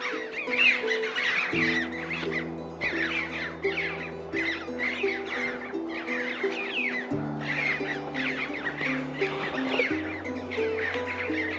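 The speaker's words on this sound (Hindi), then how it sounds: "अब ये पता नहीं कौन सी चिड़िया है" Wild birds calling in a Himalayan mountain valley in Himachal Pradesh, repeated chirps and squawks in quick clusters throughout, moderately near, over a sustained low droning tone.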